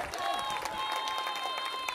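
Outdoor crowd applause and cheering for a DJ at an evening hurling cup homecoming celebration, steady clapping from a sizeable crowd with voices mixed in and a faint sustained tone underneath.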